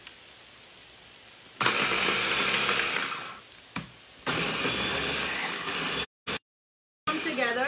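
A blender blitzes cilantro chutney in loud, steady bursts: a whirring run of about two and a half seconds, a short pause, then a second long run that cuts out briefly before starting again.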